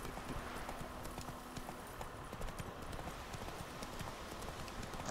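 Roach, a horse in the video game Witcher 3, gallops with rapid, rhythmic hoof clip-clops, quiet and steady throughout.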